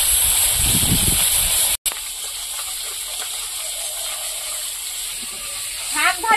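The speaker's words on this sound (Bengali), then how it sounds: "বাকি মাছগুলো সব ভেজে নেবো।" Fish pieces frying in hot oil in a home kitchen give off a steady, bright sizzling hiss throughout. It drops out for a moment, then resumes, with a faint voice near the end.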